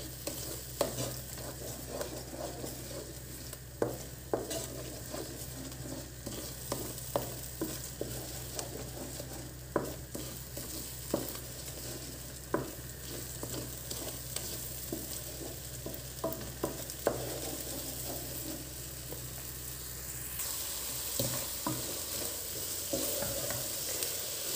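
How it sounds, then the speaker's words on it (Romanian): Eggs fry in a pan while a utensil stirs them, giving a steady sizzle with repeated scraping strokes throughout, close and fairly loud, with no talk. "Amestecăm până vedem că s-a făcut oul."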